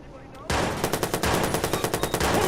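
Automatic assault rifle fire rattles out in the video game Watch Dogs, a sudden burst starting after a quiet moment and continuing as rapid, loud, evenly spaced shots.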